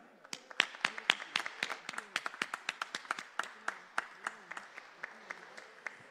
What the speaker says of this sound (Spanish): Con este fuerte aplauso damos la bienvenida a autoridades y ciudadanos.